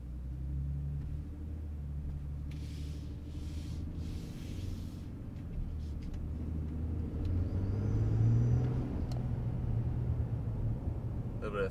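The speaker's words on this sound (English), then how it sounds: "Little bit throaty, some turbo whistle you already are able to hear when the truck is stock." A stock 2022 Toyota Tundra's engine rumbles and builds under throttle, its low throaty drone rising toward the middle of the run with a faint turbo whistle on top, steady and fairly close.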